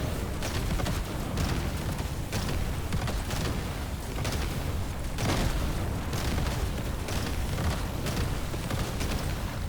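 Dense, continuous rumbling blasts from grenade explosions in the video game Deep Rock Galactic: Survivor overlap one another throughout, loud and chaotic with frequent booming bursts and no pauses.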